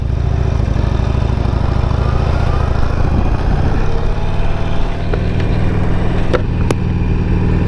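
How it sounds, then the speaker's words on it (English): A motorcycle ridden on New Year's Day, its engine a loud, close, steady drone throughout, with the pitch rising and falling slightly as the rider works the throttle. "See if I can remember how to ride a motorcycle."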